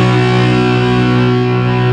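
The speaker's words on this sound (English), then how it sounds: "Now obviously I've got the distortion on my amp" Two low strings of an electric guitar, the sixth and fifth, are plucked together with a plectrum through a distorted amp, giving one sustained, buzzing power-chord drone that rings out loudly without fading.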